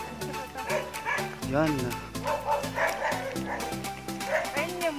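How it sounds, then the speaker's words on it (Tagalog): Several dogs bark and yip repeatedly at close range in a rural provincial setting, with some whimpering mixed in, while people talk over the barking throughout. "Wala, ang daming aso."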